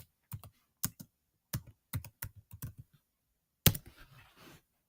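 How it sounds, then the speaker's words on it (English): Keys on a Chromebook keyboard clack in short, uneven bursts of separate taps, close and fairly quiet, ending in one harder strike followed by a brief rustle. "Just go into the browser and just type in Google"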